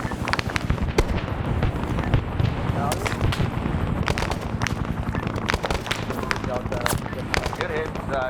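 Weapons exploding in the Vietnam War game SOG Prairie Fire, with rapid cracking bursts and detonations crowding together for several seconds, while players talk over the continuous battle noise.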